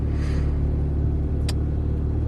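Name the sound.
Mazda RX-7 FC engine running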